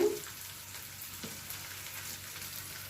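Curry leaves crackling in hot oil for a tempering over yogurt vada, a steady broadband sizzle with soft pops throughout, close and moderately loud, with no talk.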